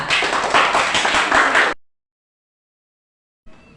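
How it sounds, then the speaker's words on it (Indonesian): Students in a classroom clap together in a lively burst of applause for about two seconds, then it stops abruptly and near silence follows. "tepuk tangan untuk Ian dengan Kaila."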